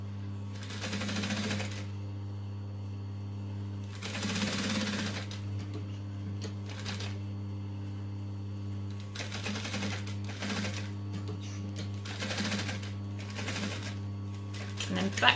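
A sewing machine runs decorative stitching on vinyl accent pieces in repeated bursts of rapid, close mechanical clatter with short pauses between them, over a steady low background hum.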